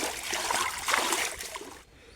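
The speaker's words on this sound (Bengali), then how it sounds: "এই ওলকপির গোড়ায় কাদা আছে শিকড়গুলোতে, এগুলো আমি ভালোভাবে একটু ধুয়ে নেব" Muddy kohlrabi roots being washed in a pond, a continuous close splashing and trickling of water that stops abruptly near the end.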